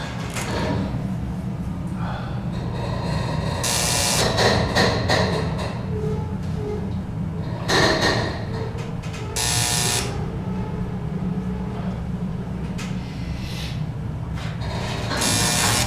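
A roped traction elevator in the Terminal C parking garage at Newark Liberty International Airport hums steadily while it runs, with buzzy door-motor sweeps and bursts of sliding-door noise at intervals, heard close and with no talk.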